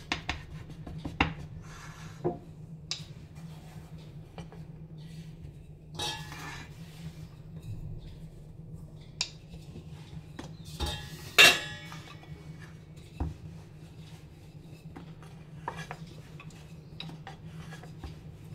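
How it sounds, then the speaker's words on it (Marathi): Maize-flour roti dough being rolled out by hand, a soft intermittent rubbing and light scraping over a steady low hum, quiet and close with occasional sharper taps. "आणि आता मक्याचे पीठ आपण लावून हे आपण लाटून घेणार आहे।"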